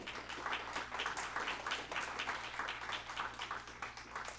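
A church congregation claps their hands in a steady, even rhythm for several seconds, fairly faint and with no talking over it, alongside a low background hum.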